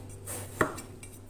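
A knife slicing through eggplant on a cutting board, one crisp cut landing as a single short knock against a quiet kitchen background.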